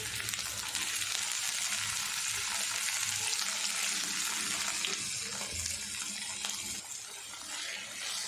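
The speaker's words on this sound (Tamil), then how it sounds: "கத்திரிக்காயை இதோட மிக்ஸ் பண்ணிவிட்டு லோ ஃப்ளேம்லேயே கொஞ்சம் நேரம் வதக்கி விட்டுக்கலாம்." Eggplant sautés in a pan over a low flame, giving a steady, fairly close hiss of frying with faint stirring noises and no talk.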